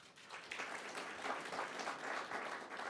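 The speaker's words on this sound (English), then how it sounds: "I think we forgot to clap for Victoria" Steady applause from an audience at an opening event, faint and distant, clapping evenly throughout with no one speaking.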